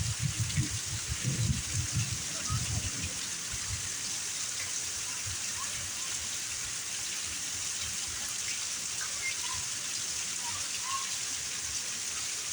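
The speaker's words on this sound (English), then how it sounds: "Heavy rain." Heavy rain pours during a thunderstorm, a dense continuous hiss of drops hitting surfaces, with a few low rumbling bumps early on before settling into a steady downpour.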